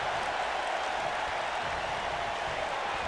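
A jam-packed arena crowd in Detroit in the WWE 2K19 wrestling game, a steady, moderately loud wash of cheering and crowd noise with no clear voices, sounding distant and uniform throughout.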